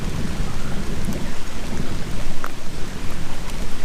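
Heavy rain pours steadily in the woods with deep rumbles of thunder rolling underneath, a dense, continuous storm with no voices.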